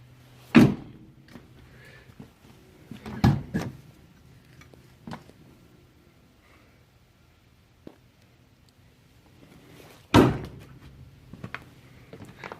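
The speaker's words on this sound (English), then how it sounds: "Makes the door sound pretty solid too when you shut it." Jeep JKU door, treated with Raptor liner, shutting in a few solid thunks, several sharp closes spaced seconds apart with quieter knocks and rattles between them in a quiet setting.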